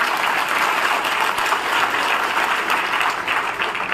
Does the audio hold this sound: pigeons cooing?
no